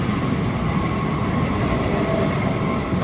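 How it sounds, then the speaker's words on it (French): A train rumbles steadily past at close range beside a small footbridge crossing the Douro river in Porto, a loud continuous roar of wheels and carriages with no voices. "Les trains ils passent à côté."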